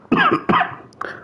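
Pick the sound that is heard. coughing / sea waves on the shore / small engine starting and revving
coughing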